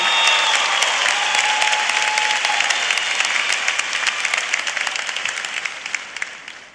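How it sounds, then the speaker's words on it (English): Sustained audience applause fills a university hall at a fall undergraduate commencement ceremony, a dense steady wash of many hands clapping that slowly fades toward the end. "Please recognize her and the excellence she represents with your applause."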